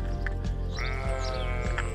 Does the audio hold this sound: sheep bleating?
yes